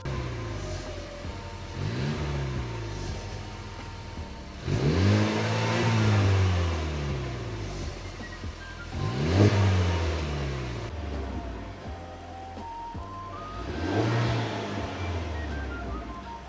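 A 2017 Honda Civic Type R on its stock exhaust revs repeatedly, engine pitch sweeping up and falling back across several pulls from low to higher range, heard close and fairly loud with no talking.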